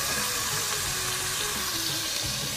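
A roughly 600-gram T-bone steak frying in a pan: a continuous, even, close hiss of sizzling fat without breaks or voices.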